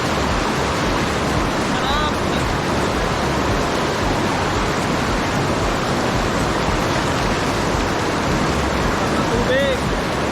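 Water flows at a highland campsite in Tibiao, Antique, a loud, steady broadband rush that fills the whole stretch, with a couple of faint bird chirps.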